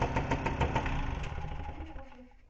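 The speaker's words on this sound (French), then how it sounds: "le moteur a tourné" An MBK AV10 (Motobécane AV10) moped engine runs on a workbench, a steady close mechanical drone with rapid rhythmic pulses that fades slightly toward the end.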